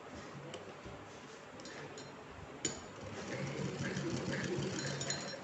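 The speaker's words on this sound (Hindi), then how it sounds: "हम इसको यहाँ मशीन पे रखकर अच्छे से पका करके हम स्टिच कर लेते हैं।" A sewing machine stitches lace onto a handmade crown for a Laddu Gopal idol, giving a soft, steady mechanical whir with light ticking that builds slightly toward the end.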